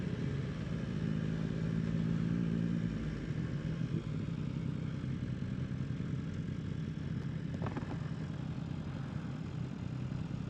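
A BMW S1000RR motorcycle engine runs nearby, a steady low drone with a brief rhythmic burble early on, heard alone with some faint clatter.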